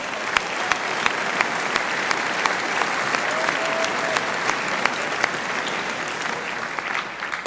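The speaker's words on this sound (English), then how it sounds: "Let's give yourself a round of applause." A large crowd at a Cornell University reunion event applauds steadily, a dense wash of many hands clapping at once that holds even for several seconds.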